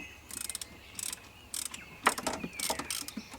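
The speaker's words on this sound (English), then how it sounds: "Real men use ratchets on everything." A ratchet wrench works on a car heater hose fitting, short bursts of quick clicking repeated about six times with brief pauses between them, close and fairly quiet.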